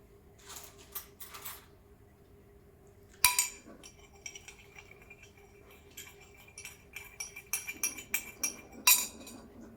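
A small spoon clinks against dishes while espresso is prepared with a Breville Barista Express BES870. Sharp, bright taps come in scattered clusters against a quiet background, with louder ringing strikes near the middle and end.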